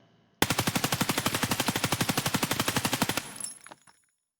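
A 9x19mm weapon fires on full auto in the video game Escape From Tarkov, a loud, rapid unbroken burst of about thirty evenly spaced shots lasting nearly three seconds, then a brief echoing tail.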